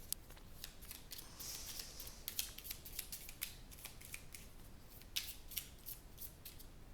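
A deck of tarot or oracle cards is cut by hand, giving soft papery snaps and riffles in a quick sequence, close and fairly quiet, with no one talking.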